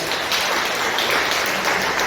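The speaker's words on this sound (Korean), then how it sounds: "큰 박수 좀 부탁드리겠습니다" Audience applause at a meeting in a large YMCA conference room during a party candidate forum: loud, sustained clapping from a crowd at close range, steady throughout with no speech over it.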